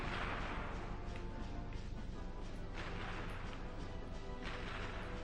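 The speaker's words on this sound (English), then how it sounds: "Missile coming to your right." Missiles explode in the Ratchet & Clank video game as a dense, continuous roar of blasts and crashes, loud and sustained for several seconds with no talking over it.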